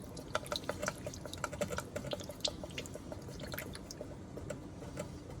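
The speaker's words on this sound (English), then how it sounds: "So you've got to whisk it really good to get it mixed." Beeswax lip balm mixture whisked briskly in a bowl, a steady run of quick wet ticks and taps with a faint liquid swish, close and even throughout, no talking.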